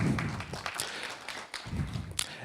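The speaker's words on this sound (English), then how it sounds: "Everybody clap." Audience applause at a blockchain game summit, a crowd clapping at moderate level for a few seconds and thinning briefly in the middle before picking up again.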